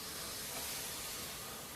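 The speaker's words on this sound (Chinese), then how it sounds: "锅微热，放入面糊，" Batter poured onto a preheated, lightly oiled electric griddle pan, giving a steady, even hiss of sizzling that holds without a break for under two seconds, soft and close.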